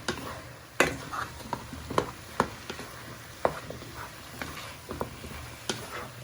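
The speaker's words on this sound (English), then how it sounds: "Now you want to give that a good stir." Spices, salt and pepper being stirred in a pan for Thai green curry, with a soft background sizzle broken by scattered sharp clinks and scrapes of a utensil against the pan.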